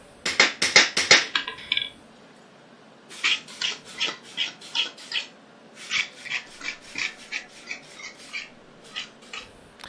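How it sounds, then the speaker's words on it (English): Metal hammering in a home workshop, a rapid flurry of sharp strikes followed by steady, evenly spaced blows that continue in rhythmic runs with brief pauses, moderately loud and close. "Try not to talk a whole lot while the hammer's going."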